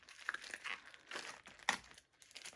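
The paper wrapper of a handmade baby soap is opened up close, with quiet, irregular crinkling and tearing rustles.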